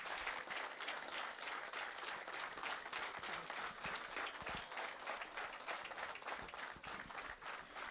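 An audience at an entrepreneurship keynote panel breaks into sustained applause as Narayana Murthy is welcomed on stage, a dense, even wash of clapping lasting throughout.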